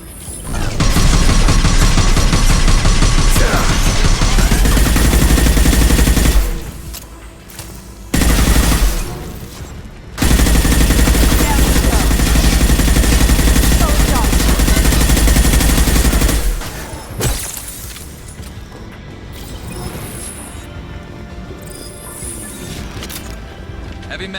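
Loud, dense gunfire and mechanical weapon clatter from the combat game Mass Effect 2 on Xbox Series X, in sustained bursts broken by short pauses, fading into quieter battle noise toward the end.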